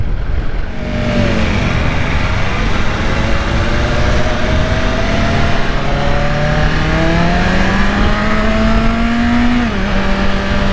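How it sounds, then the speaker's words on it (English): 2022 BMW S1000RR M Edition sport motorcycle engine revving, a loud and sustained high-pitched roar that climbs steadily through the gears, with wind noise all through and no talk. "This bike just screams, bro."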